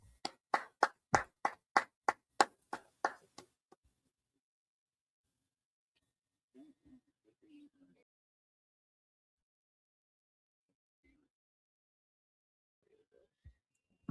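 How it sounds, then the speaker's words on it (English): A class audience at a religious school session claps about a dozen times in quick, even rhythm, the sharp claps close and loud, then the room falls nearly silent with only a few faint, scattered sounds. "All right, clap it up."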